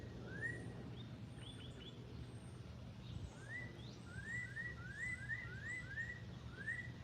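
Two birds call back and forth near a backyard chicken coop, repeated short upswept chirps in quick runs and a few higher thin notes, faint over a low steady hum.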